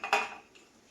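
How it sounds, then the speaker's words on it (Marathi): A metal cake tin is set down in the middle of a heated metal kadhai, giving one sharp clanking ring followed by a fainter second clink, close and clear with no talking. "कढईमध्ये मधोमध मी ना केक टीन ठेवलेलं आहे"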